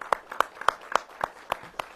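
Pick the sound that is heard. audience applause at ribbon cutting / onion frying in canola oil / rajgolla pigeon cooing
audience applause at ribbon cutting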